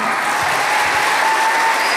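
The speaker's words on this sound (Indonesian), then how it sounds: "Ya, tepuk tangan." Audience applause at a children's karate demo at the Inkai Cup in Gedung KONI Klaten, a dense, loud, steady clapping that fills the whole moment.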